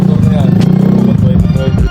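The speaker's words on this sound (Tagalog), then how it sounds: "sinakyan na ni Kurt yung motor para i-testing." A Honda Click V1 scooter's engine runs loud and steady during a test ride, with a continuous low hum and clattery texture, while voices murmur underneath.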